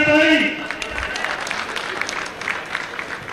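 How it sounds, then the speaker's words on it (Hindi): Applause at a cricket tournament prize ceremony bursts out from a crowd, with a voice speaking over it at first, then continues as a steady, moderate clapping over about three seconds. "इनके लिए तालियां तो बनती है भाई।"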